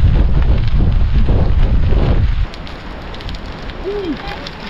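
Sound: wind during a downhill gravel bike ride

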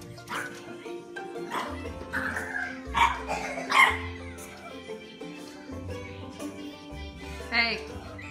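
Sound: puppy barking

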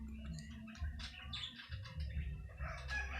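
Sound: chicken crowing

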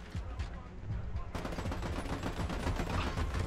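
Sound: gunshot in the video game Army of Two

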